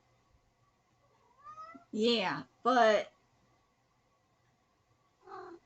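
Cats meow close by: a short call, then two loud drawn-out meows in quick succession and a brief final one, with a few quiet words spoken in between.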